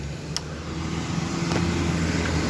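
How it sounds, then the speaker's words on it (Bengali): A used Bajaj Discover 125 motorcycle in showroom condition runs close by with a smooth, steady low engine hum that swells slightly, with no talk over it. "আর আপনাদের একটু আমি স্টার্ট করে একটু শোনায় দিই"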